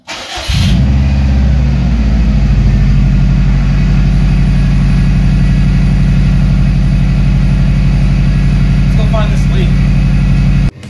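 A car engine cranks and catches, then settles into a loud, steady idle close by that runs for about ten seconds before cutting off. A couple of faint clicks come near the end.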